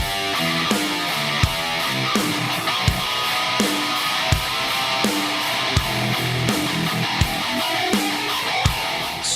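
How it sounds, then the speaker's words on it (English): Electric guitar through Bias FX 2 dual stereo signal chains, playing a dense layered riff with steady rhythmic strums and repeated sharp attacks, full and loud throughout with no talking. "make this single guitar sound like this big stereo monster"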